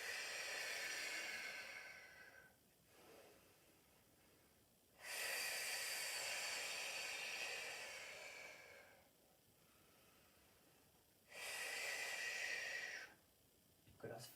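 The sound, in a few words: heavy exhaling breaths while holding a Pilates plank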